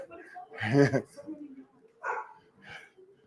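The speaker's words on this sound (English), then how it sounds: "Wow, she actually barked." A Husky gives a couple of short, husky barks and yips, fairly close, separated by brief pauses and a faint background hum.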